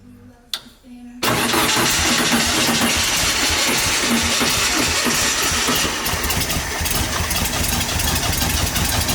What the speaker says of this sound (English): the engine got a full strip down, service and tune-up, before being reinstalled and started for the first time in months